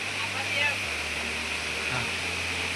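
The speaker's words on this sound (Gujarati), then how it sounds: "જુઓ એક નંબર ધોધ પડે છે" Steady rushing water from a nearby hillside waterfall at Khuniya Mahadev, Pavagadh hills, fills the scene with a constant hiss and roar, no clear speech on top.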